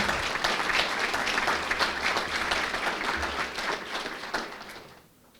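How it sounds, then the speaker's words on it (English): Sustained applause from the audience at a San Angelo ISD school board meeting, steady and dense clapping that fills the room for about five seconds before tapering off at the end. "one final round of applause for making dreams come true in SAISD."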